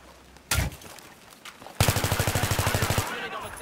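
Automatic gunfire in the video game Battlefield 3 on the Grand Bazaar map: a single loud shot, then another, followed by a rapid burst of roughly fifteen evenly spaced rounds lasting over a second, close and loud.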